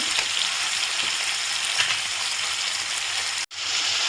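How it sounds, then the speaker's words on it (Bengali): Tomatoes frying in a pan, a loud continuous sizzle close by with faint crackles, cut by a brief dropout near the end before resuming. "টমেটোটা আমি একটু ভালো করে ভেজে নেব"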